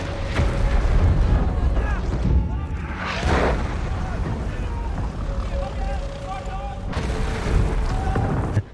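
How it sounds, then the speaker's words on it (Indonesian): Explosions from an Allied bombardment in a World War II war film set in a prison: a steady heavy rumble with two big booming bursts, one early and one near the end, while a voice narrates over it throughout. "Sementara yang berada di penjara kaget mendengar suara ledakan di luar."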